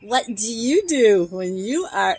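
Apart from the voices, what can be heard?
No everyday noise stands out behind the speech.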